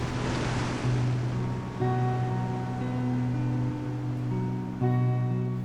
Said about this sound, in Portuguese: Ondas do mar quebram nas rochas.